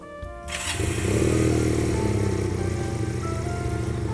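A GPX Legend 250 Twin Mark 3 motorcycle's twin-cylinder engine cranks and catches after a brief click, then settles into a loud, rumbling idle nearby.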